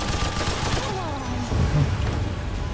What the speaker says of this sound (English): I almost got him in 3 shots.